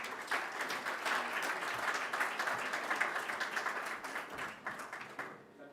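Sustained audience applause at a WAEMU conference panel, dense steady clapping from a seated crowd for nearly six seconds before it thins out and fades.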